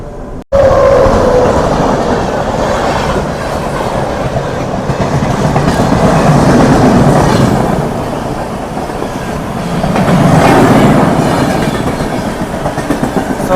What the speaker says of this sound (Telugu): సో ఈ ట్రైన్ వచ్చేసి మనకు లోక్మాన్య తిలక్ టర్మినల్ నుంచి ఎంజీఆర్ సెంటర్ వెళ్ళే ట్రైన్ ఇది.